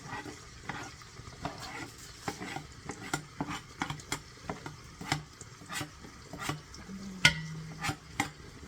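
Onions frying in a pot while ogbono soup is being made, giving a steady sizzle with repeated stirring and utensil scrapes, close and moderately loud, no talking.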